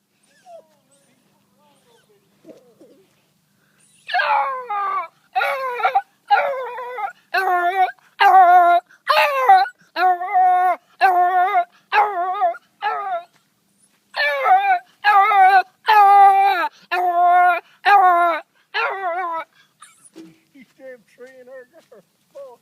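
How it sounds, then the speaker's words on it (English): A dog barks and yips while treeing an animal outdoors, a long series of loud, evenly spaced, high-pitched barks in two bursts after a quiet opening, close to the microphone with little else heard. "You treeing her, Rebel."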